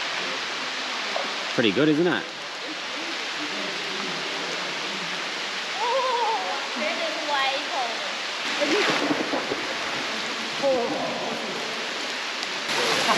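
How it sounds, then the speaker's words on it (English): A 66-meter waterfall in the remote Top End of Western Australia roars as a constant wash of falling water, with people talking intermittently over it. "So there's the waterfall."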